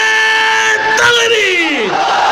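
A large crowd at a Bengali religious gathering roars the takbir call back in unison, a loud sustained chorus of many voices that rises and then falls off.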